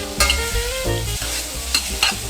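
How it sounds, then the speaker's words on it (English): Pork belly fries on a small flame, giving a steady close sizzle punctuated by a few sharp scraping stirs in the pan. "Cook the pork belly for 2 minutes before adding the garlic."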